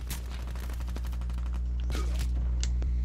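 Rapid automatic gunfire rattles in a Black Ops 3 multiplayer match, a fast train of sharp shots at close range over a steady low hum, with scattered game effects.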